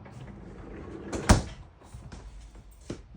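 A refrigerator door with two doors and a bottom freezer thuds shut in a house, one sharp knock mid-clip amid softer handling clicks and rustles, close with no talk.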